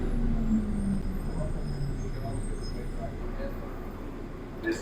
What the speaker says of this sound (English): This train is stopping.